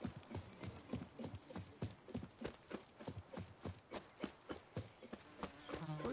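Horse hooves clip-clop steadily in a video game, a quick, even rhythm of close hoofbeats that continues throughout with no talking.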